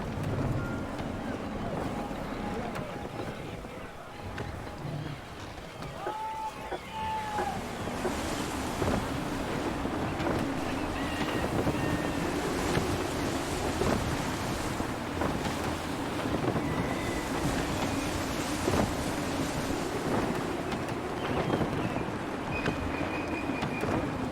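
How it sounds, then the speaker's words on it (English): Strong gusty wind roars steadily while a sailing ship moves through open ocean in Assassin's Creed III, with waves and water rushing against the hull and broad, continuous noise throughout. "Wind looks to be shifting. Stay alert, Connor. Gusty winds can be difficult to manage."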